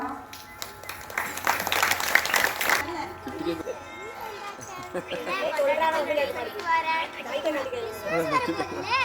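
A crowd of children claps and cheers at a school Christmas celebration, bursting into loud, dense applause for a few seconds before it gives way to a young voice speaking and a musical, sing-song passage.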